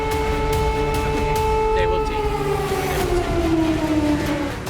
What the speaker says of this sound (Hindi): तभी हवाई हमले से अलर्ट करने वाला सायरन गूंजने लगा।